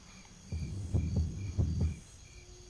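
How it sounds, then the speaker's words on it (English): Heartbeat cue in the Buffy the Vampire Slayer video game, deep muffled double thumps repeating in a steady rhythm, fairly loud and alone over a faint hum. "And that's when you get that heartbeat."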